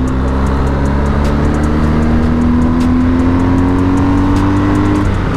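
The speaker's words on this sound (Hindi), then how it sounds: "इतना बेसी एग्जॉस्ट नोट है ना 1250 जीएस का, मजा आ जाता है सुनने में" BMW R 1250 GS motorcycle accelerating hard, its exhaust note rising in a steady climbing drone, loud and close throughout with no talking.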